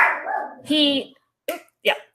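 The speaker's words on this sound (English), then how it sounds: "I have 7 dogs, so there's a couple in the room here with me." Several dogs bark indoors in a room, a sustained whine-like bark followed by two short sharp barks, loud and close, with a person talking in the background.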